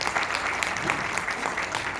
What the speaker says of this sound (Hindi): देवेंद्र सर के लिए तालियां